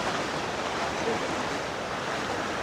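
The Arax river flows in a broad, steady rush of water heard outdoors, close and fairly loud, mixed with some wind on the microphone.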